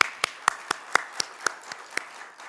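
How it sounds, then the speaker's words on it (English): Sparse applause for four speakers at the close of a morning conference session: roughly ten distinct, evenly spaced claps from a thin audience, fairly quiet with no talk. "So just one more round of applause for our 4 speakers."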